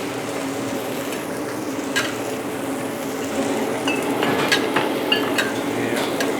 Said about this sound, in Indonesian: Kita aduk-aduk sebentar lagi ya.